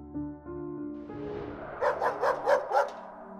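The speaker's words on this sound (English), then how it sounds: "He suddenly started to hear Baxter growling and barking loudly." A dog gives a low growl that rises into a series of four or five loud, rhythmic barks nearby, heard alone without talk.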